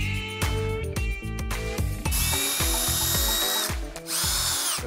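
Close up, a power drill buzzes in rapid stop-start pulses as it drives screws into a wooden panel side, then settles into longer, steadier whirs, with no voices.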